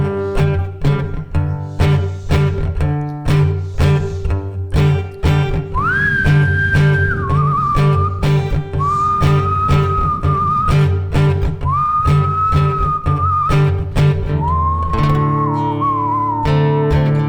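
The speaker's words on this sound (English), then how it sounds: "I don't know if whistling is gonna work." Someone whistles a sustained melody in long held notes over strummed guitar bar chords with a steady rhythm, live at a singer-songwriter showcase.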